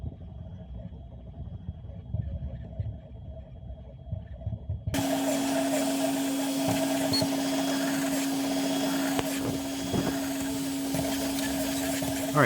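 A 3D printer runs while printing marble run parts, a steady motor hum with a strong sustained tone that starts abruptly partway through, near and continuous, after a quieter stretch of faint room noise.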